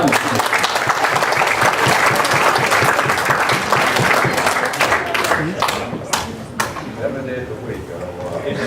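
Forum audience gives a round of applause, loud and steady at first, then tapering to scattered claps as a voice begins talking over the fading sound.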